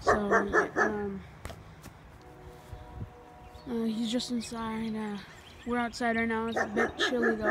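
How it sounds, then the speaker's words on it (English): Several dogs barking and yipping nearby outside a house on a chilly evening, bursts of repeated barks coming and going while someone talks over them. "sorry about the dogs barking. There's a lot of dogs right next to where my friend lives."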